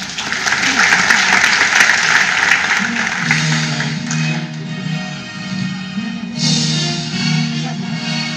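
Audience applause after a workshop performance of Les Miserables, a dense wash of clapping that swells early, eases off, then lifts again, with a voice speaking over it.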